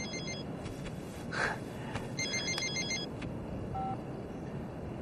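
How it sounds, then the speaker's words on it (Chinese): Telephone ringing with an electronic warbling ring, repeated bursts at moderate volume, alone with no talking. "哎，你的电话 啊"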